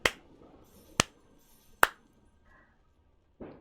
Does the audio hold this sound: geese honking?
no